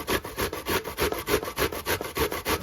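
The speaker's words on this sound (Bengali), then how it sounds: "এইভাবে কুড়িয়ে নিতে হবে এরকম ঘষে নিতে হবে" Bottle gourd is rubbed against a grater in quick, regular back-and-forth strokes, about four per second, close and rasping with no voices.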